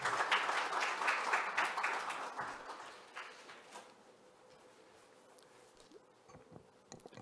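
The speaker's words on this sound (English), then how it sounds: "Please welcome Dr. Peter Moore with a big round of applause." A conference audience at a launch event claps to welcome a speaker to the podium, with several seconds of steady applause that thins and fades to a few scattered claps in a quiet room.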